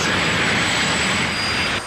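A jet-powered drag racing car roars with a steady, loud, broadband engine blast that holds for about two seconds, then drops slightly in intensity near the end.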